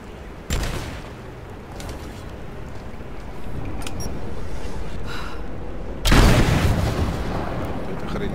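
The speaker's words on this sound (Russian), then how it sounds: "Эта хрень взрывается." Two sudden heavy booms from the video game Rise of the Tomb Raider, one early and a louder one later, each followed by a rumbling roar over a constant noisy background.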